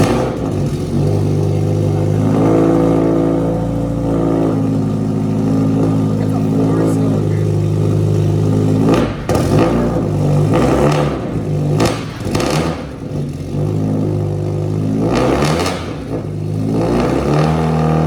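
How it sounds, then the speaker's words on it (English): A racing car engine with toggle-switch controls revs up in a garage, giving a loud, growly exhaust note with pops and crackles, rising and falling in bursts while people talk nearby. "you revved it up and it just like growly, poppy"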